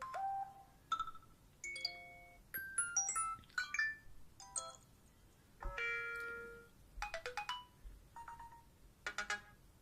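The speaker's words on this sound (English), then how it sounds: "And then we do have the new alert tones" A series of short iOS 7 alert chimes and jingles on an iPod Touch 5 play one after another, each a bright melodic tone pattern separated by brief pauses.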